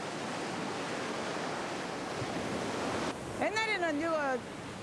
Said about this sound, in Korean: 이 파도가 굉장히 또 크게 이제 또 오거든.